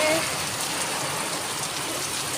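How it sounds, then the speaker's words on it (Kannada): Heavy rain pours down in a dense, steady, loud hiss that stays constant and close throughout, with no pauses or breaks. "ಈ ಥರ ಮಳೆ ನಾನು ನೋಡಿಲ್ಲಪ್ಪ"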